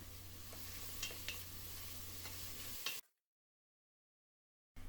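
Onion and green chillies sauté in a pan for a masala pulao, with a steady sizzle and a few scraping stirs for about three seconds before the sound cuts to silence.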